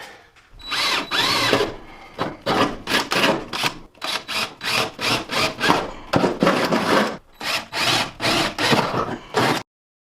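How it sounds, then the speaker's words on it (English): Power drill boring holes into Ford parts for fitting 302 long-tube headers and exhaust, heard as repeated loud bursts of whining drilling separated by short pauses, close by with no talk. "Let's get some holes drilled."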